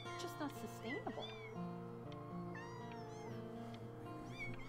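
Cats meow repeatedly in the Before Your Eyes game, several drawn-out mews layered over background music, with talk heard in the mix.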